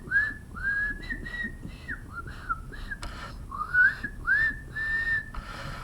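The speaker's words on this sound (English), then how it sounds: "He's probably whistling a tune." A person whistles a simple tune in a series of clear, sliding pitched phrases with short gaps between them, close and moderately loud, with no talking.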